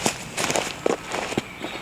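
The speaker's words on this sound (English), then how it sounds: "these same footsteps will now be heard coming from the left speaker and then heard moving over to the right" Footsteps of a person walking past in the open, recorded on a compact camera-top mic, a steady run of soft crunching steps at moderate distance under a constant airy background hiss.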